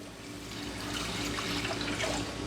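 Plain tap water running steadily into a container for a jalapeno pickling brine, a continuous close splashing hiss that builds slightly over a couple of seconds.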